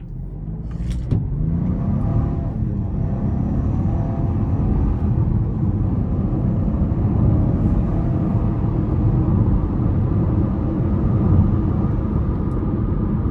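A 2025 Buick Envista Sport Touring with a 1.2-liter turbocharged three-cylinder engine accelerates, giving a steady, loud low rumble from inside the cabin that holds level throughout with no talk.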